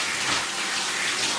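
Tap water runs steadily and loudly while a dog is washed, a continuous hissing gush with no voices over it.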